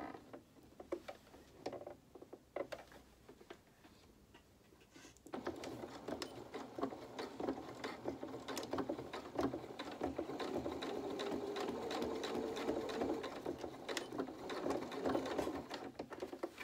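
A sewing machine stitches polka dot dress fabric for a small rabbit doll, starting with quiet handling and then running steadily and close in a continuous whirring buzz for the second half.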